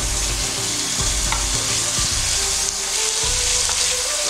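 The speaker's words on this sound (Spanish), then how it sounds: "Comencemos entonces sofriendo la carne." Meat frying in sesame oil for spring rolls, a steady close sizzle with faint stirring scrapes, continuous and fairly loud with no voices.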